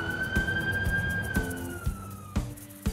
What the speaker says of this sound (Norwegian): Sirenen!